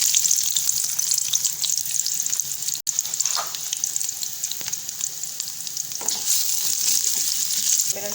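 Chopped onion frying in hot oil for a dal tempering (baghar), a steady close sizzle with occasional stirring scrapes, loud and continuous with no talk.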